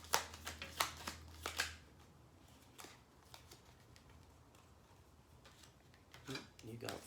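Tarot cards being shuffled in a few quick riffling bursts early on, then quieter scattered card taps and slides, with a soft voice briefly heard near the end.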